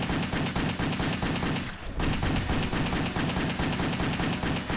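Rapid automatic gunfire in the Xbox 360 action game Wet, loud and relentless bursts of shots in a fast, even rhythm, broken only by a split-second pause before firing resumes.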